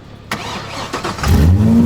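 A drift car's engine cranks and catches after stalling, moving from a short starter whir into a loud, rough idle that swells close by, with no one speaking.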